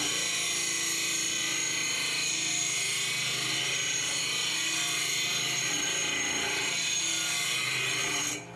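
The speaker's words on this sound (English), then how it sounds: "we need to grind that down. So for that, I use this 12-inch disc sander" A 12-inch disc sander grinding down sharp metal edges on a Jeep WJ roll cage tube, a steady, loud high-pitched whine and rasp that runs unbroken and alone, cutting off at the very end.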